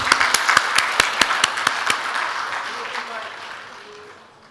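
Audience applause welcoming a speaker onto a stage at a talk event: scattered sharp claps early on, thinning and fading out over a few seconds.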